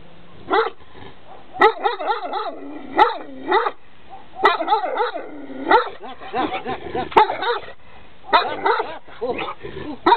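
A six-month-old Carpathian Shepherd dog barks close and loud in rapid, irregular bursts, with short yips mixed among the barks across the whole stretch.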